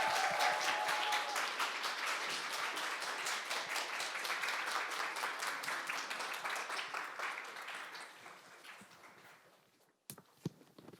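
An audience of young people at a youth cultural festival claps steadily for a singer-songwriter's entrance, a sustained even wash of applause that slowly fades over ten seconds, ending with a couple of sharp knocks.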